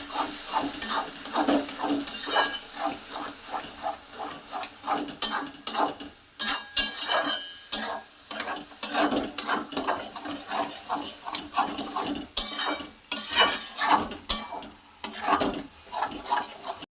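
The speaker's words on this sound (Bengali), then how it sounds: "এখন আমি মিডিয়াম ফ্লেমে ভেজে নেব" Taro paste with onion-garlic paste fries on a medium flame while a spatula scrapes and stirs it around the pan, giving repeated rhythmic clatters over a soft sizzle, close and loud with no talk.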